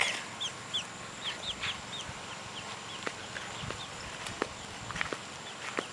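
Chickens, including a Cochin and a Red Star, cluck and chirp softly in a backyard coop, scattered short calls over faint footsteps and light outdoor noise.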